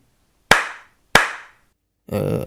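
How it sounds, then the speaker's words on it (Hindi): Two sharp, close hand claps ring out a moment apart in a Hindi scary story, each fading quickly into silence. A voice follows briefly at the end. "हर बंदा अपने लिए ताली बजाओ"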